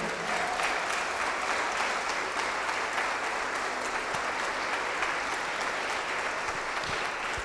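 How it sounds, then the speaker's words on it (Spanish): Steady, even applause fills a church as a Spanish-speaking congregation claps together, a continuous wash of many hands at moderate level without audible speech. "Denle un aplauso al Señor."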